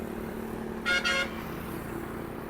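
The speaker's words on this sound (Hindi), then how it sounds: "गाड़ी आ रही है उधर से।" A car horn sounds twice in quick succession, a short double toot standing out over steady roadside traffic hum on a road near the Vietnam–China land border.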